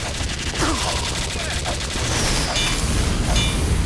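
Gunfire in the video game Team Fortress 2 comes as dense, loud rapid shots and bursts throughout, with a voice talking over the firing.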